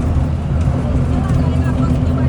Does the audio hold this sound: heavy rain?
no